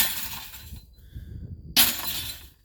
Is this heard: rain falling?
no